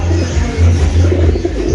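Spanish pigeons coo in low, rolling pulses that swell and fade across the whole stretch, close and steady in a busy loft.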